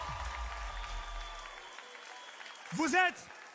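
A live audience at a contest finale applauds, the clapping fading away within a couple of seconds, then a brief voice speaks near the end.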